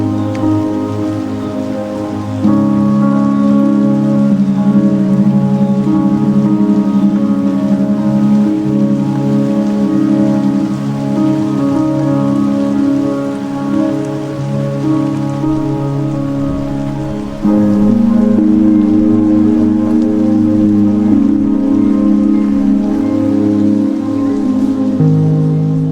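Steady rain falling in Providence Canyon State Park, a dense, even hiss of drops on surfaces that stays loud and continuous throughout, with a low droning layer underneath.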